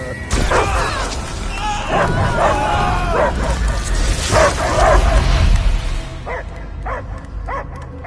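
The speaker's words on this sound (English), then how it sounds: "I hear only barking." In the Marvel's Guardians of the Galaxy video game, a creature barks and yips in repeated loud bursts, close by, mixed with voices talking and whimper-like sounds.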